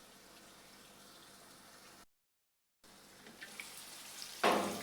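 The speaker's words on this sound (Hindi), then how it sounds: "ये देखिए अब इसमें भूनना शुरू हो गया" Tomatoes frying in a pan for dhaba-style egg bhurji make a faint, steady sizzle that cuts out briefly, then returns and swells into a louder hiss near the end.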